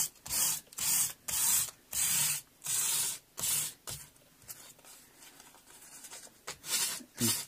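Sandpaper rubbed back and forth over the frets of a Korean Squier Telecaster, about ten close, rhythmic scratchy strokes with short pauses between them, loud and alone.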